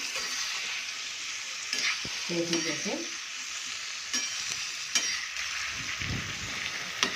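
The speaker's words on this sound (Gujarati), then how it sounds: "ગેસને આપણે થોડી વાર ફૂલ રાખી અને આ રીતે ચલાવતા રહીશું." Tomato masala for rajma bubbles and sizzles steadily in a pot over a high flame, with a spoon scraping and stirring through it in short bursts; a voice speaks briefly.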